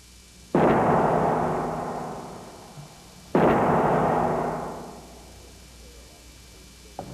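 A Boeing 747 wing snaps in a structural strength test with two sudden, loud explosive cracks a few seconds apart, each a booming burst that rolls off into a long fading rumble.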